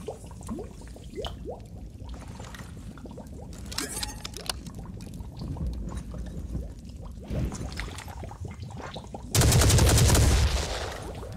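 Gunfire in the tactical video game Phoenix Point, with scattered sharp shots over a busy game soundscape, then a loud, dense burst of firing near the end.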